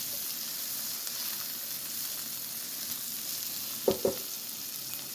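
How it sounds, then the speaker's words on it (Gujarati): Asafoetida sizzling faintly in hot oil in a pan, a low steady hiss with two quick clinks of a spoon stirring near the end. "હલાવી દઈએ."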